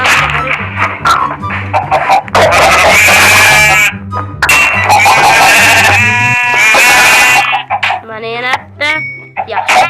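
Loud electronic game music and sound effects play throughout a Minecraft-style skyblock game, with wavering sheep bleats breaking through, most clearly near the end.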